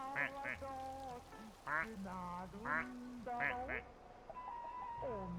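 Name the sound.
rubber duck quack in video game Placid Plastic Duck Simulator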